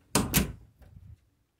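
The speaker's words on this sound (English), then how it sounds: "Let me close this door." An indoor door shuts with two sharp, close thuds in quick succession, followed by a softer rattle as it settles, with no talk.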